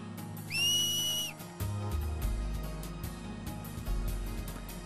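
A single loud, piercing finger whistle, used to cheer on Blitz players in Final Fantasy X, holds for nearly a second over low game music, followed by rumbling crowd ambience.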